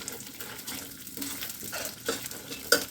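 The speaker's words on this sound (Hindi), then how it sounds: "आप देख रहे हैं चट चट करने की आवाज़ आ रही है, यानी गोंद हमारा इसमें फूल रहा है" Soft crackling and sizzling of edible gum roasting and puffing in flour, with scraping stirring sounds, a few sharper pops standing out near the end, heard up close without voices.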